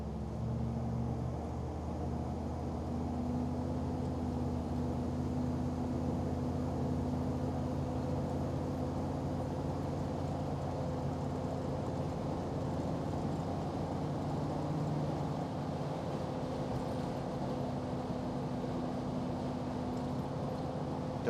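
A 1953 Buick Skylark accelerates with a low, smooth engine hum and steady road rumble heard from inside the cabin, evenly loud throughout with no distinct gear changes.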